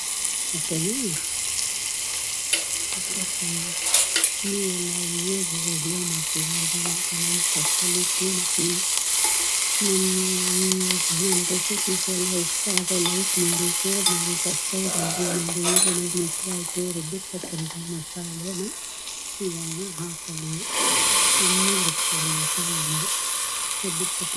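Onion and garlic frying in a pan for a two-tomato sambar, a continuous close sizzle and hiss with occasional stirring, while a voice hums or talks over it for most of the stretch.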